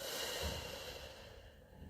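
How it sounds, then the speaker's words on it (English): A slow exhale during a guided calming breathing exercise, a soft breathy rush of air close to the microphone that gradually fades over about two seconds, with no talk. "and breathing out."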